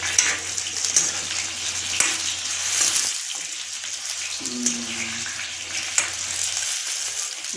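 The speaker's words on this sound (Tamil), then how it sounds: "இதை போட்டு நல்லா வதங்கவும்" Eggplant pieces sautéing in a pan as part of a Tamil home-style recipe, a steady broadband sizzle with faint stirring scrapes and clinks, close and moderately loud throughout, with no talking.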